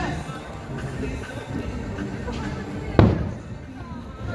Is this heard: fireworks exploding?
yes